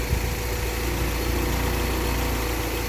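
A car engine idles steadily after being started and left running for ignition timing work, a constant low rumble with a faint even pulse, close by and unbroken throughout.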